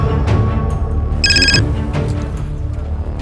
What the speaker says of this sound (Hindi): साहब 11 तारीख की दोपहर को मेरी बहन का फिर से फोन आया